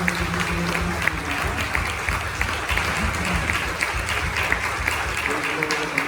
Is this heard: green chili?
no